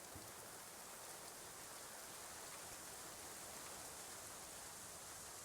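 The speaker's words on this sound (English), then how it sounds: "it's a beautiful rainy day, finally" Steady rain in the colony-building game Going Medieval, an even, hissing downpour that stays constant and fairly soft throughout with no talking.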